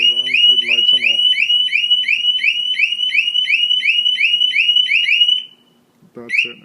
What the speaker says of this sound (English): So now normally if I approach the motorcycle, should be goes off.